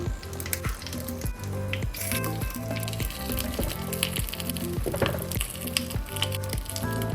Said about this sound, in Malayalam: നമുക്ക് മീനിൻ്റെ പീസ് ഓരോന്നായിട്ട് നിരത്തി വെച്ചു കൊടുക്കാം